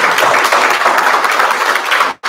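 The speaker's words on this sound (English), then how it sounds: "Y'all will please give Bobby a round of applause." An audience at a West Columbia special city council meeting applauds former mayor Bobby Horton: steady, loud clapping from many hands that cuts off abruptly at the end.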